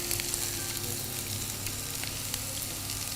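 Vegetables for a vegetable chop suey sizzle and crackle steadily in a hot pan, a close, continuous frying hiss with occasional sharper pops, no voices over it.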